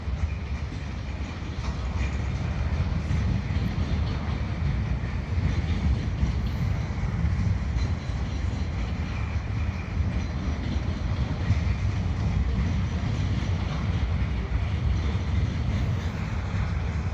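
A CN freight train rolls steadily past old factories near the Lachine Canal bridge in Montreal, a continuous low rumble with faint rail clatter heard from a distance, unbroken for the whole stretch with no voices.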